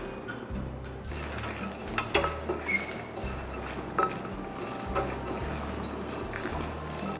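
Turmeric powder sautéed over mild heat in a pan while preparing arachu vitta sambar, with steady scraping and stirring clinks of a utensil against the metal pan, faint sizzling underneath, close and moderately loud, no talking.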